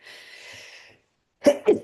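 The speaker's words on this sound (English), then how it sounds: "Excuse me, going to sneeze." After a soft breathy inhale, two quick, sharp bursts burst out close up, like a short double sneeze.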